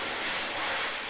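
Sea Harrier jet aircraft engine, a loud broadband roar heard steadily for about a second, with no voices.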